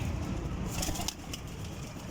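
Breeder pigeons in a loft give soft cooing and a brief burst of flapping wings, close by over a steady low background rumble.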